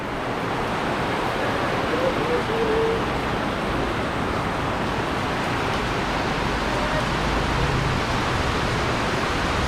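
Heavy rain pours down in a dense, steady roar of broadband hiss that holds constant with no break, loud and close, with no talking.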